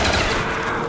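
Gunfire in a zombie video game: a dense, loud, sustained burst of shooting filling the whole brief moment with no gaps.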